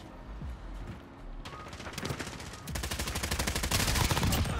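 Bursts of automatic gunfire in Call of Duty Modern Warfare ground war, an M4A1 rifle firing rapid rhythmic shots that grow denser and louder, with scattered distant shooting early on.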